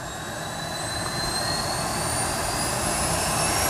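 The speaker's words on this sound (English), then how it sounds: "So that started out as a passenger plane." Engines of an 85-passenger jet airliner converted into an aerial firefighting tanker run in a loud, steady roar, with a high whine rising slowly throughout and no voices.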